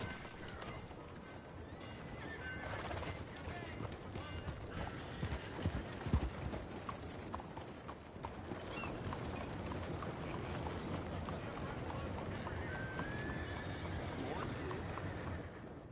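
A horse in Red Dead Redemption 2 whinnies amid the steady clip-clop of hooves and a busy outdoor background, with voices murmuring now and then.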